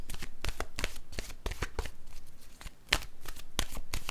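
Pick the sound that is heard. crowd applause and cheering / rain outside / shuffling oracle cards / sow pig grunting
shuffling oracle cards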